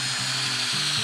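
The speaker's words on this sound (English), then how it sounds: "You drill it in." Power drill boring a hay probe into the side of a hay bale, a continuous whirring grind with brief pitch dips as the motor loads, close and steady for about a second.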